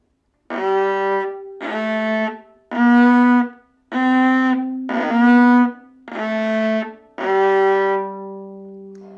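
Seven short bowed string notes played one after another, each with a slight scratchy catch at the start and brief gaps between them.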